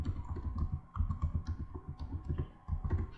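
Someone types a short message on a computer keyboard, with steady, close clattering keystrokes running throughout in quick bursts.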